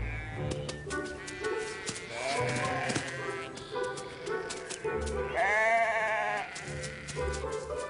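Several sheep in a fruit orchard bleat repeatedly and overlapping, close and fairly loud, with wavering calls throughout and faint rustling and bird-like chirps in the background.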